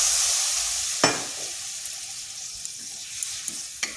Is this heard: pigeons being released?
no